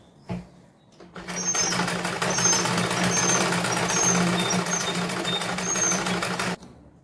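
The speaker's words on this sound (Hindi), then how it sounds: "हमें इस तरह से कपड़े को सीधे तरफ से सिलाई लगानी है।" A sewing machine runs steadily for about five seconds stitching salwar fabric in a continuous even whir with a rapid mechanical tick, close and fairly loud after a brief knock at the start.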